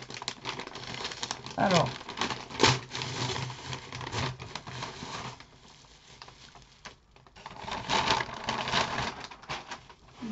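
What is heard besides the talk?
unwrapping a parcel packed in bubble wrap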